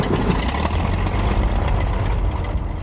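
A propeller airplane engine idling nearby, a steady low throbbing rumble with a rough mid-range chug, loud and continuous with no voices.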